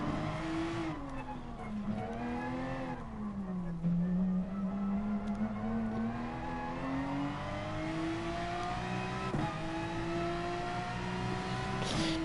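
A Porsche 911 RSR race car engine in Gran Turismo Sport drones loudly and steadily at the Nürburgring GP, its pitch dipping on lifts and climbing through long revving pulls over twelve seconds.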